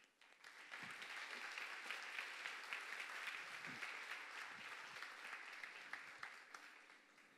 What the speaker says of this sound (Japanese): どうぞ大きな拍手でお迎えいただいて、立花さんに、バトンタッチしていただきたいと思います